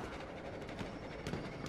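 Armored train rolling along in Battlefield 1 gameplay, a steady rumbling rattle of rail wheels with faint clacking, heard alone without talk.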